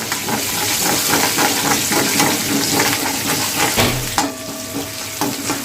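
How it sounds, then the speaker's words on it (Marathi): Green chilies frying in hot oil with cumin in a pan, a loud, dense crackling sizzle with frequent spits and pops, heard alone without talk. "आणि लगेचच आपल्याला यामध्ये मिरची घालायची आहे आणि मिरचीला चांगला असा कलर येईपर्यंत आपण अशी फ्राय करूया"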